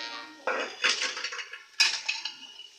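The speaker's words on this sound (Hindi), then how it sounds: "जो मैंने मिक्स सब्ज़ी ली है, जो मैंने अच्छी तरीके से पहले धो ली थी, अब ऐड कर रही हूँ।" Mixed vegetables tumble into a pan of cooked masala, giving a few sharp clattering bursts of pieces striking the metal and each other, close and fairly loud, with no sizzle rising above the clatter.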